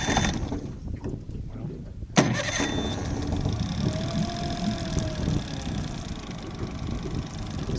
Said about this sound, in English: Keys right here, switch, forward, neutral, reverse, and it starts up really well each time.